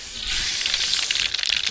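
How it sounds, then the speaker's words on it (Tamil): Mustard seeds splutter in hot oil being tempered for tamarind rice, a close, bright crackling hiss that grows busier into rapid popping toward the end. "என்ன சூடாகிடுச்சு கடுகு சேர்த்துக்கலாம்"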